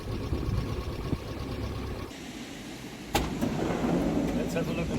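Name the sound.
campervan engine running after revision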